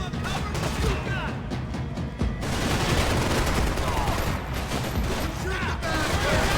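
Dense video game gunfire from Max Payne 3, a loud, continuous barrage of shots with shouting voices mixed in throughout.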